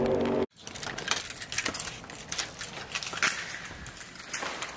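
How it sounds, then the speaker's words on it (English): Keys jangle near the door of a new apartment in California, a metallic rattle that carries on in bursts after a brief silence, with no talking. "We got our keys."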